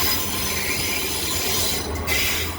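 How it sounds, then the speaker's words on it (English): A passenger train moves through Leeds station, its wheels giving a sustained high metallic squeal over a rumbling, rolling bed of rail noise, close and loud throughout with no voices. "Train will be reversing before continuing on to Hull."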